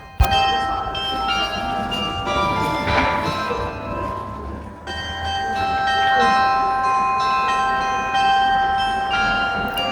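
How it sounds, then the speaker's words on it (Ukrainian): Church bells in Goslar, Germany ring out an old melody, overlapping tones sustaining and ringing together over several seconds, with a faint background rumble. "давайте послухаємо старовинні мелодії у виконанні дзвонів Гослара"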